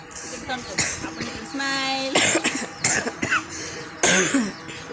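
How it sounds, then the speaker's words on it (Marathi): A woman who is unwell coughs several times in short bursts, close to the microphone, with throat clearing and some speech mixed in between. "तरी पण मधनं खोकला येतोय"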